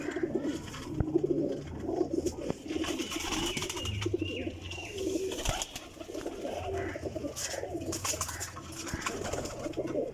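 Soft, repeated cooing of pigeons close by, low rhythmic calls over rustling and faint background noise, with no talking.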